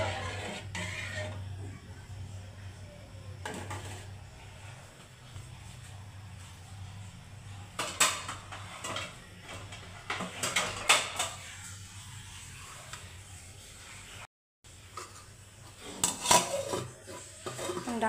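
Metal pot and utensils clattering during polao cooking, with scattered sharp clinks and scrapes over a low hum, ending with a lid being set on the pot.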